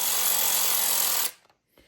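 A power tool drives in a bolt on an engine being pulled for freeze plug replacement, giving one loud, harsh, sustained burst of about a second before it cuts off to near silence.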